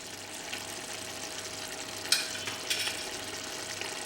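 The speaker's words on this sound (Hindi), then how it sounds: "लहसुन अदरक के पेस्ट को भी भून लेंगे" Garlic ginger paste frying in a pan for a chicken masala gives a steady, even sizzle, with a few brief sharper crackles and light stirring scrapes.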